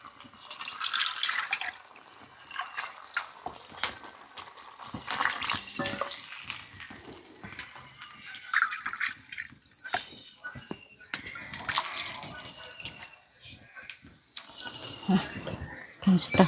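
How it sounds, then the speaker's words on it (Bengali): Water is poured into a cooking pot while a magur fish curry with bottle gourd and papaya is being made. It splashes in uneven bursts, with voices nearby. "জলটা দিই।"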